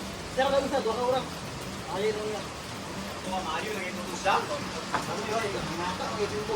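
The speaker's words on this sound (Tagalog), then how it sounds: "Napakalakas na ng ulan." Heavy rain falls as a steady hiss, fairly faint and continuous under several people talking.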